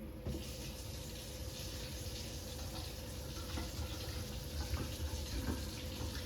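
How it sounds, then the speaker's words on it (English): Water running from the tap into a kitchen sink after a cleaned P-trap, a steady close rushing flow with a low drain gurgle beneath, constant in level throughout. "now I'm just going to test it by running hot water from the top"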